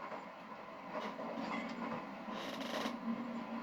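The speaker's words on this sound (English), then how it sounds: "And there we go, train jump started." A train starting up in the robot factory level of the Phineas and Ferb: Across the 2nd Dimension video game on PS3, a steady rumbling rolling noise with faint rhythmic clatter and no talking.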